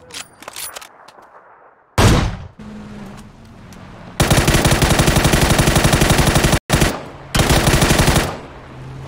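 Rapid machine gun fire rattles through a video game in loud sustained bursts, near and dense, with a heavy blast and a short break between the long volleys.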